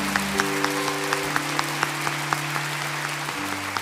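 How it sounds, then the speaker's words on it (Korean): A church congregation claps steadily and warmly throughout, a dense sustained applause with a low tone humming underneath. "더 뜨겁게 박수하겠습니다."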